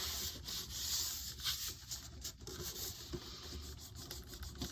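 Paper or index card pressed and rubbed down by hand inside a hardcover sketchbook, a soft continuous dry scuffing close by, steady and fairly quiet throughout.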